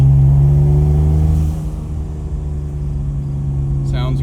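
A Mitsubishi 3000GT VR4 engine drones loud and close as the car climbs a hill under turbo boost, holding a steady low hum with a brief faint whine near the end.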